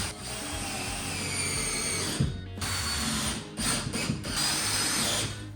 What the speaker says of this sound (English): I want to make sure I screw this sheet in pretty good before I nail the planks up there.